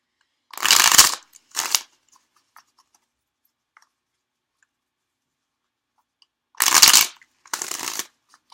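Two short bursts of tarot cards being shuffled, each a quick riffle followed by a softer flutter, separated by a long silence.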